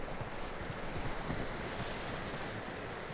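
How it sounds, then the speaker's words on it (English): Horse hooves clip-clop steadily at a walking pace in Red Dead Redemption 2, faint and close, with light wind and rustling behind them. "Get that horse hitched"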